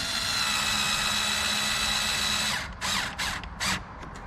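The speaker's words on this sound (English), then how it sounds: "if you have a really strong screw gun, then I mean, don't slam it home, because you'll strip that threading." A powerful screw gun whines steadily while driving screws into a car door, then breaks into several short bursts as the screws are snugged down; close and loud, with no talk.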